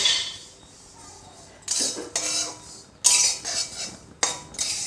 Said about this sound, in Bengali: এবার তিলগুলো কড়াই থেকে নামিয়ে নিলাম